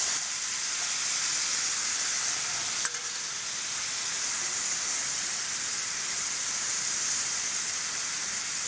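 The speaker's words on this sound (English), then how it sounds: "The liquid will help steam and cook the shrimp." Black tiger prawns steam and sizzle in a pan with added liquid, a steady bright hiss throughout with one small clink partway, close and alone without talk.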